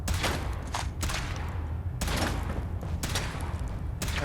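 Gunfire in a Fallout video game from a suit being tested, loud bursts of rapid shots roughly once a second with booming low thuds between them.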